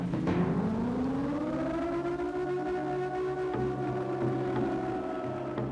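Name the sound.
siren sound effect from the Siren video game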